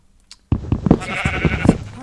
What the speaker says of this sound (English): Yes, hi sheep.